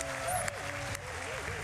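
Sparse clapping from a small audience at a speedrun watch party, a thin scattered patter of hands with people talking over it.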